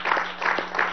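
Crowd applause at a Venezuelan government event honoring Guárico and the Llano region, a short burst of clapping that swells in quick rhythmic waves.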